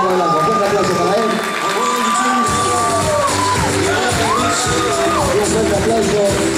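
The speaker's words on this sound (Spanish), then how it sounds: "Un fuerte aplauso para él." Audience at a 2017 Argentine men's physique bodybuilding contest applauds and cheers the first-place winner, a sustained dense roar of clapping and shouts from a large crowd.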